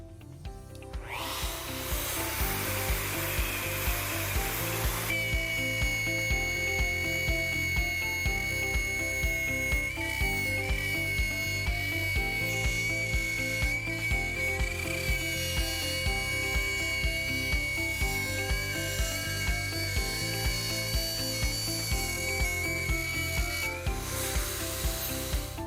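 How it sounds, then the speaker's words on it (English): A router cuts a circle through 3/4 inch plywood on a first shallow quarter-inch pass, giving a steady, loud high-pitched whine with grinding wood-cutting noise that runs continuously and stays close. "I'm going to cut that circle in 3 different passes"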